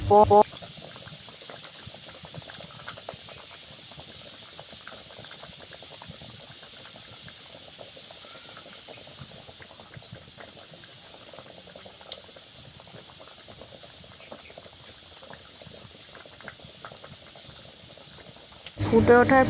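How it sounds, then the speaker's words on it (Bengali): Water boiling in a pot with salt, turmeric and slit green chillies for a hilsa mustard curry, a steady close bubbling and simmer that runs throughout, with brief louder clatter at the start and end. "আর দেখো জলটা ফুটে উঠেছে। বেশ কিছুক্ষণ একটু ফুটবে।"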